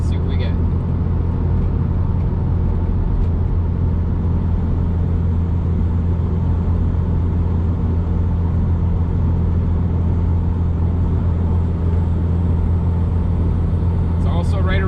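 Steady low cabin road rumble inside a 2017 Subaru WRX Limited cruising at about 70 mph, a constant loud drone with tire and wind hiss and no speech.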